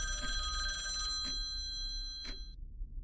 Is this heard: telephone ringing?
yes